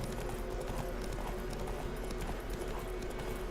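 Roach the horse's hooves in Witcher 3: a steady, rapid clip-clop of galloping hooves, close and even, running without pause over a low droning background.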